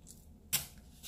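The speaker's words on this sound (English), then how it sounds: "with my handy dandy scissors, I'm just gonna go ahead and cut this." A single crisp snip of scissors cutting through paper, close by, followed by the start of a second cut at the end.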